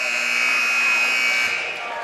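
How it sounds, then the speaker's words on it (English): A basketball game's horn sounds as a loud, steady electronic buzz at the end of a period in a boys' gym, holding for about two seconds before easing off, with the crowd's murmur underneath. "A rebound comes down at the buzzer."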